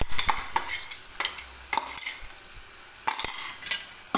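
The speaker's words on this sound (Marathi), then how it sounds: "हे वाटण मी सुरुवातीला तेलामध्ये टाकून घेते" Ground paste of cumin and dry coconut frying in oil in a pan on low heat, with a soft sizzle under repeated sharp scrapes and clinks of a spoon stirring against metal, irregular and close.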